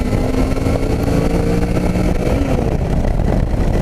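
A Suzuki 650 motorcycle engine runs steadily and loudly up close, a continuous rumbling drone with no speech.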